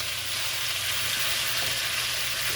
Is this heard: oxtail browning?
yes